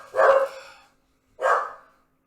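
A dog barks twice, loud and close, with a short pause between the two sharp barks and no talking.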